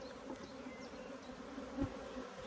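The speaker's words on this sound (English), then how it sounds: "a much fuller colony, much more bees that are probably all over the front now" Honey bees swarm around the entrance of a large, crowded hive colony during an early spring inspection, giving a steady, soft, continuous buzzing hum with no voices.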